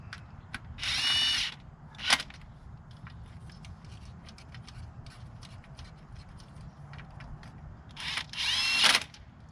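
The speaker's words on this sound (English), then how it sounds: "I'm going to start by tightening these bolts up." Power tool driving intake manifold bolts on a Ford 3.5 engine, two separate short whirring bursts with a brief clatter between them, fairly close over quiet workshop background with light clicks.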